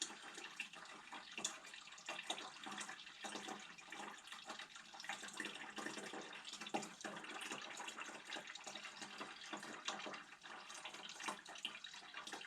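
Hard cider draining through a tube while being racked, a faint, steady trickling and splashing of liquid running on without pause, with no talk.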